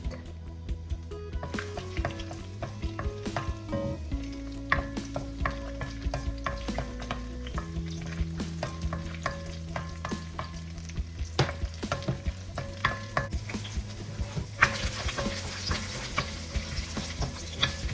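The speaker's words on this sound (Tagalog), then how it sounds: "if the oil is hot already, let me start from the garlic" Garlic frying in hot oil at the start of a giniling afritada, with a steady sizzle and occasional stirring scrapes, continuous and close, over a tonal background.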